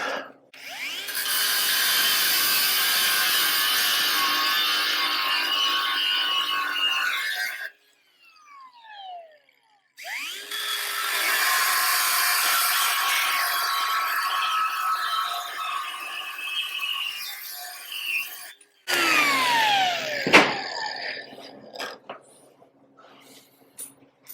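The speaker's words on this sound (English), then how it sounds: "Same thing, I'll trim it with the disc." A cutting disc grinds into a fabricated steel torsion-bar cross member on a 1956 International truck, with two long, loud, steady cutting passes separated by pauses. A shorter burst with a falling whine as the tool spins down comes at the end.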